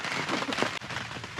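Steady rain on a canoe trip at Rock Lake, a dense broadband patter of drops hitting surfaces close by, continuous and fairly loud with no talk over it.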